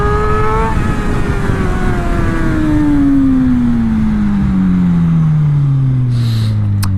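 A motorcycle's engine is revved hard as the rider pops a wheelie, the throttle yanked at about 30 mph with the clutch out. The loud, steady engine note sweeps slowly downward as it settles, with no talking.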